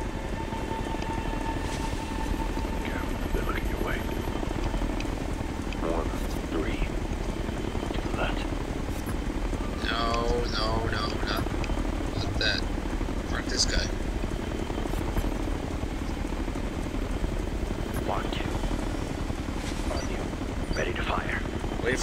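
Helicopter rotor drone in the video game Ghost Recon Future Soldier, a steady low thrum running throughout, mixed with scattered game effects and chirps, with talk over it.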